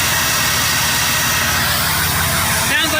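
A Cummins diesel swapped into a Ram TRX with twin turbos runs with a loud, steady, close roar throughout, and a brief rising turbo-like whine near the end.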